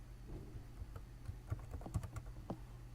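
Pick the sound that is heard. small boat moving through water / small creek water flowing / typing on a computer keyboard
typing on a computer keyboard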